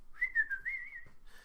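A single person whistles a wavering melodic tune, clear and close, rising and falling for about a second before trailing off into quiet background.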